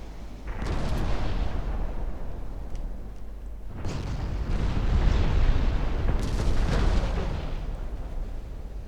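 Secondary guns on a warship in Ultimate Admiral Dreadnoughts firing in a loud, sustained barrage of booming shots, with several heavy onsets rolling into a continuous rumble.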